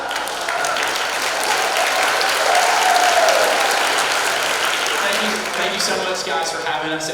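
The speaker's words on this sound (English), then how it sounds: "Please give Jaden a round of applause." An audience at a high school senior awards night claps in a sustained, full round of applause, with voices talking over it as it continues.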